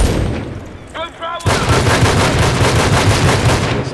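Rapid automatic gunfire from the Medal of Honor online video game rattles loudly and continuously, briefly dropping out before a dense burst resumes.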